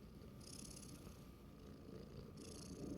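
A soft, continuous cat purr rumbles steadily close by, low and gentle, with faint higher hiss bursts drifting in and out; no one speaks.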